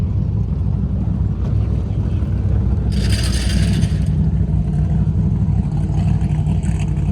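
Electric car fuel pump running on temporary test wiring, a steady mechanical whir and ratcheting buzz continuing throughout with a brief brighter hiss in the middle, close and fairly loud.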